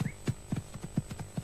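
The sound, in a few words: horse hooves clip-clopping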